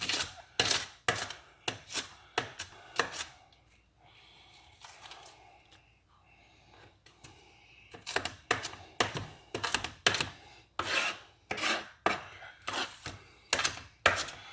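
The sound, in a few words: knife chopping onion into mince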